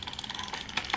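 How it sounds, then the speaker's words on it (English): A Yashica twin-lens reflex camera's film winding knob ratchets with a quick run of small, evenly spaced clicks, close and faint, ending in a couple of slightly sharper snaps. "the next thing you have to do is you have to wind the film"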